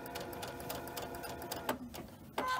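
A sewing machine stitches quilt block pieces in a quiet, fast, rhythmic chatter that breaks off briefly near the end and then starts again, with no talking.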